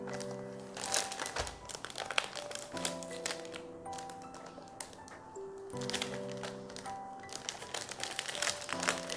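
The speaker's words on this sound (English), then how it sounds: "I'm gonna be opening the plastic." Plastic packaging around a Logitech G413 Carbon mechanical keyboard being opened, giving a string of crisp crinkles and crackles in uneven bursts, up close and fairly quiet, over a faint steady tonal background.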